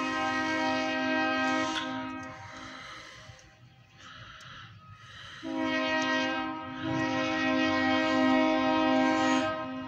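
A three-engine freight tanker train rumbles past with a loud, sustained horn blaring in long blasts, dipping briefly in the middle before sounding again close by.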